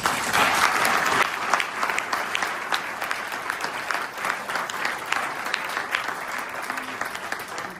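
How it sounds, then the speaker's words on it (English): Conference room audience at a World Health Assembly side event applauding panellists, a dense, sustained round of clapping that starts strong and gradually thins out. "So please put your hands together to thank our panellists."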